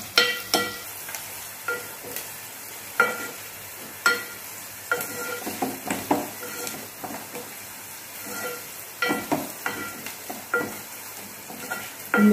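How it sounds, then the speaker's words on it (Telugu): Onions and green chillies fry in a pan as they brown for a mushroom curry, a steady crackling sizzle broken by repeated louder scrapes and stirring knocks, close and with no talk. "ఉల్లిపాయ బాగా ఎర్రగా వచ్చిందాకా వేయించుకోవాలి."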